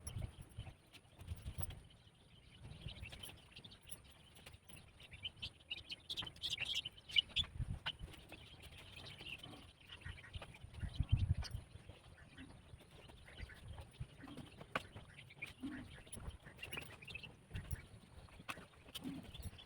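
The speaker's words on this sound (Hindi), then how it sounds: "चिड़िया की चहक काफ़ी अच्छी सुनाई देती है सुबह के टाइम में" Birds chirp faintly outdoors in the morning, scattered high calls over a quiet background with occasional low thumps and rustles, no clear talking.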